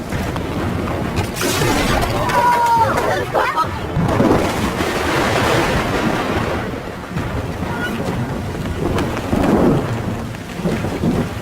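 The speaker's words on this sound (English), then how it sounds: "We're terrified because it's pouring rain and we don't have a shelter." Heavy rain pours steadily in an outdoor survival-show camp at night, with a dense hiss and a low rumble of thunder, and brief faint voices come through now and then.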